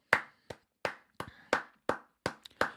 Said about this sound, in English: Little round of applause for Fabio.